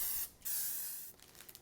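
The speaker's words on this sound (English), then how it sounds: "we're just going to spray that with baking spray just to make sure it lifts off really easy" Two short hissing bursts of baking spray coat a 12 by 18 inch baking sheet, the first brief and the second longer, followed by faint sputtering hiss, close and clear.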